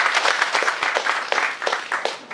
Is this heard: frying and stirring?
no